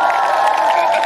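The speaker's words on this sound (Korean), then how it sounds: "박수입니다." An audience at a fan meeting claps and cheers in a dense, steady wash of applause with scattered whoops, lasting the whole moment.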